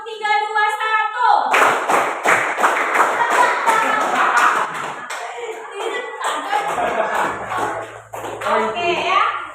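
A primary school class claps in a counted pattern of one, two and three beats, sharp group claps in short bursts between a teacher's spoken counting, close and loud, with children's voices joining.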